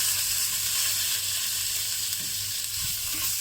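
Minced pork and garlic stir-fry in a hot pan for tan tan ramen, giving a continuous loud sizzling hiss with a few soft knocks from stirring near the end.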